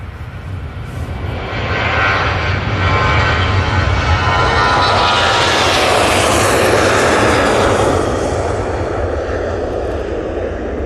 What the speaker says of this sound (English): I do have a TUI rocketing down 2-3 left.